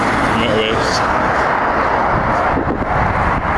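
Loud motorway traffic roars continuously from close by, heard from a footbridge above the road with a truck passing beneath, forming a dense rushing wash with wind buffeting the microphone.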